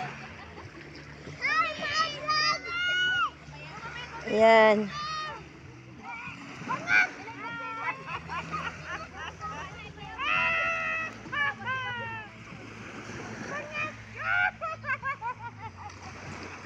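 People splash about in the sea, with bursts of water splatter rising and falling under lively chatter and children's excited voices throughout.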